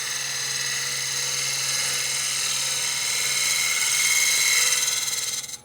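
A wood lathe spins a mortar and pestle while a round-shaft cutter takes a light shear scrape, giving a steady, close, high hiss-like whine that holds for several seconds, swells slightly and then stops abruptly. No talk is heard.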